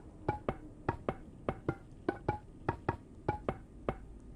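Bone blocks are placed one after another in Minecraft, giving a quiet series of dry, clicky knocks in an uneven rhythm with no talk.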